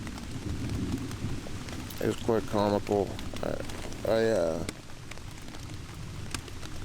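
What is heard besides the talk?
rain falling on tent during kayak camping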